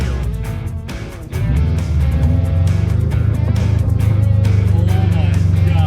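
An engine-swapped Subaru GC8 accelerates hard, its engine note jumping to a loud, sustained droning roar after a brief lull, heard close from inside the car.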